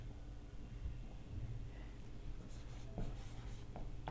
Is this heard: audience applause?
no